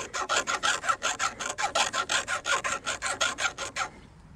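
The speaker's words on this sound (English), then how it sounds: "reason I want to file the outside is because there's going to be a little burr right here where the saw blade came through." A metal file rasps across the saw-cut end of a tent pole, knocking off the burr in about twenty quick, even back-and-forth strokes, close and steady, then stops abruptly.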